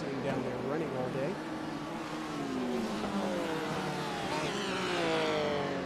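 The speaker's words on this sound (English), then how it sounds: "That engine you hear down there as we every time we pass by the corner is, of course, the pace car" Racing video game at Monza with a car engine droning and revving through passing gear shifts, a steady mid-level motor tone that swells and fades as cars go by.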